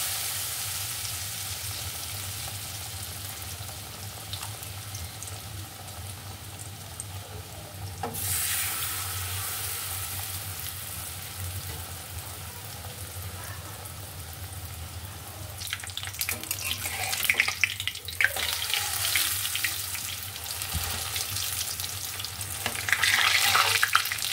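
Pumpkin leaves frying over raised heat give a steady sizzle, with louder bursts of stirring and scraping toward the end and no voices.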